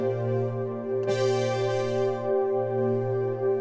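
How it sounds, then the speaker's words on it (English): A sustained synth-brass chord rings out with rich, buzzy harmonics, its tone brightening partway through as a knob is turned, steady and close with no talking. "There's also great synth brass sounds, and once again I can use a knob"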